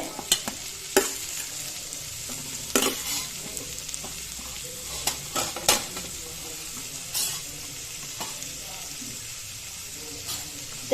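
Onions frying in a pan for a mackerel masala fry: a steady, gentle sizzle underneath, with occasional spoon scrapes and clinks against the pan, heard close and unaccompanied.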